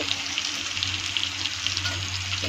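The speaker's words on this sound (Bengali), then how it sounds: "দিয়ে ভালো করে নেড়ে ছেড়ে নেব" Soybean curry with sugar, turmeric and salt fries in a pan with a dense, continuous sizzle and light stirring scrapes over a low steady hum, without any talk.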